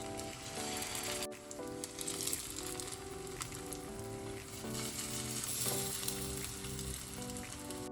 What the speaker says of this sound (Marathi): आपण आता या टिक्क्या दोन्ही बाजूने अशा छान लालसर खरपूस करून घेऊया